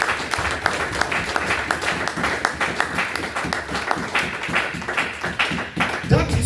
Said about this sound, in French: Put your hands together for the Lord.